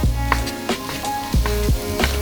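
Onions fry in a hot pan with a loud, steady sizzle and crackle, and faint stirring knocks come through now and then.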